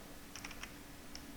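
Someone types Python code on a computer keyboard, producing a quick burst of soft keystroke clicks followed by one more tap, faint and close, over a quiet room hiss.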